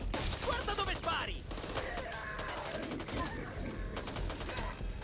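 Rapid bursts of video game gunfire crackle in quick volleys, with shouted voices and game noise mixed in, loud and busy throughout; from the Xbox Series X game Zombieland, Volume 6.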